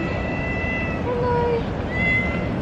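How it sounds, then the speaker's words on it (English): A cat meows outdoors at night, a few thin tonal calls spread over a steady background hum, moderately near and not very loud. "There is a cat following me."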